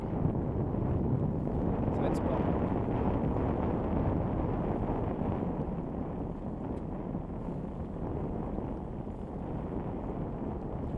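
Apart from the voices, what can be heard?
west wind blowing at a sailboat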